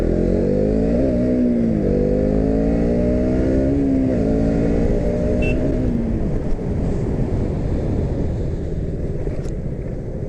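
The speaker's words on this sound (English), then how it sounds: "So that was me checking out the braking of the bike" A KTM 200 Duke motorcycle engine revs and shifts through rising and falling pitch sweeps while riding, then eases off under braking into a steady rumble and road noise, loud and close throughout.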